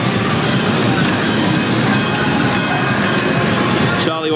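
A ghost train car at Southport Pleasureland amusement park rolls loudly along its rails, a constant rumbling clatter with rhythmic clicks, and a shift near the end as it passes.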